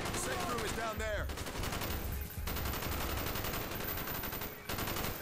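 Rapid automatic gunfire in a Call of Duty: Black Ops campaign firefight, dense loud bursts of shots that continue almost without pause, with brief gaps between volleys.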